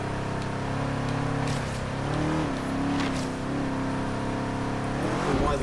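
A rally-cross car in a racing game revs and accelerates through corners with an automatic gearbox, its engine note rising and falling as it shifts, steady and close with no voices.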